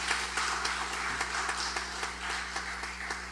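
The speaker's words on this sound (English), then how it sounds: "give the hard-working women of this nation, the Sri Sevak Sabha, a round of applause for building this" An audience applauds the hard-working women of the Sri Sevak Sabha at a memorial gathering, with steady, moderately loud clapping over a low hum.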